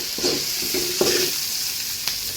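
Onions frying in a pan for cabbage palya, a constant close sizzle broken by a few scraping stirs of a spoon, loud and alone.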